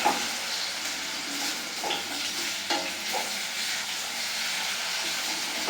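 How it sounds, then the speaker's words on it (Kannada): Potatoes frying in oil make a steady, close sizzle and hiss, with occasional soft stirring scrapes over the continuous crackle. "ಆಲೂಗಡ್ಡೆನ ಚೆನ್ನಾಗಿ ಆಯಿಲಲ್ಲಿ ಫ್ರೈ ಮಾಡ್ಕೊಳ್ತಾ ಇದ್ದೀನಿ"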